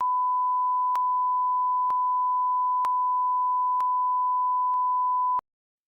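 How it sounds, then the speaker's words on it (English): A censor bleep covers a spoken phone number: a continuous loud pure tone lasting about five seconds, broken by faint clicks, then cutting off abruptly. "are you gonna bleep that out"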